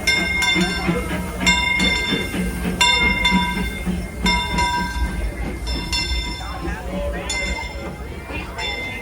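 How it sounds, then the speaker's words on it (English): Disneyland Railroad steam train pulling into a station at Disneyland, with clanking wheels, hissing and rumbling carriages, and bright bell- or whistle-like tones ringing out repeatedly over crowd noise and a voice. "The Disneyland Limited, now arriving from a trip around Walt Disney Magic Kingdom."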